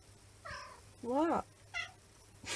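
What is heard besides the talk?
pet cat meowing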